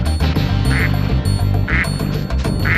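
A rubber duck squeaks out quacks in the Spyro 2 video game, with three short squeaky calls against a busy, loud game soundtrack.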